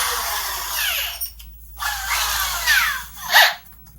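A power drill with a long bit bores a hole for a homemade radiator protector tool, whining loudly and steadily, then pausing twice and starting again, with a brief rising squeal near the end.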